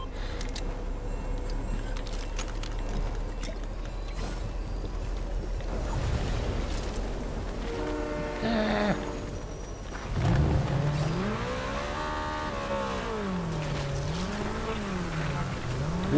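A car drives in Fortnite Chapter 5 Season 1, its engine a steady, moderate drone under a busy mix of game effects, with wobbling, swooping tones rising and falling in the second half.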